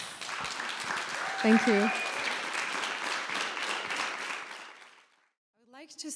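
Audience applause for an artist at the end of an artist talk at the Cotton Factory, a dense steady clapping that fills about five seconds, with a brief spoken thanks over it before it stops.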